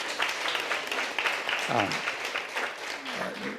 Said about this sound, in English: Let's give a round of applause to our amazing sponsors.